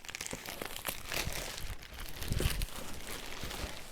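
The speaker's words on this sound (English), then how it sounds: "I'm going to get the protective layer of plastic off of it" A protective plastic layer being peeled and crinkled off a Janome HD9 sewing machine box, close and quiet, with continuous rustling and a few sharper crackles.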